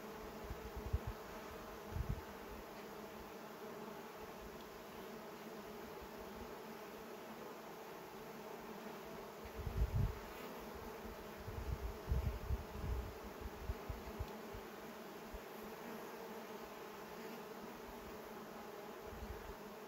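Honey bees hum steadily around frames lifted from a hive during an inspection for laying queens, a constant close drone with a few louder individual buzzes passing near now and then.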